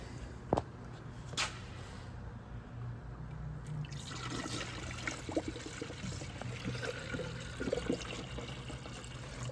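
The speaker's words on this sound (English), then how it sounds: "now I'm just gonna add some coolant" Dex-Cool coolant from a Z-Rex jug poured into the engine of a 2006-2008 Buick Lucerne 3.8L, a steady close liquid pour and trickle running for several seconds after a couple of faint knocks.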